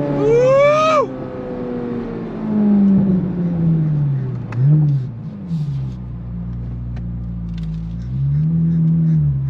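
A car with an LT6 engine accelerates hard, its loud engine note sweeping up and down through several throttle pulls, with wind rumble underneath.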